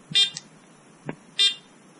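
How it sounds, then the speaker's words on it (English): Garrett Apex metal detector powering on, giving a short series of bright electronic start-up beeps: two clear tonal chirps with a soft blip between, loud and close, with no talking. "let's turn on the detector."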